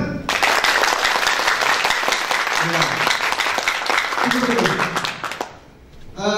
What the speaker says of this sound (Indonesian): Saya ingin dengar tepuk tangan sebelah kanan.